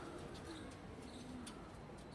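Racing pigeons cooing at a loft, soft low repeated coos close by, faint and steady beneath a quiet background hum, with no talk.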